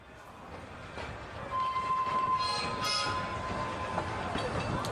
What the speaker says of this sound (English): Sounds like a train station.